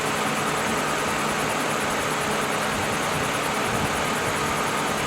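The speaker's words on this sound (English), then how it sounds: "you could leave the engine running" A car engine idles while the A/C system is being recharged, a steady, unbroken mid-pitched hum and vibration at even loudness with no talk over it.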